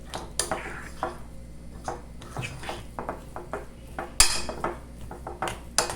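A metal spoon scrapes and knocks against a pot while mixing a thick cheese and ham dough, giving a steady run of irregular clinks and scrapes with a few sharper, louder knocks, close up and with no talking.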